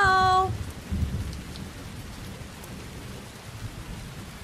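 Steady rain hiss in the video game Heavy Rain, a dense even wash of falling water that continues throughout after a brief tonal chime at the start.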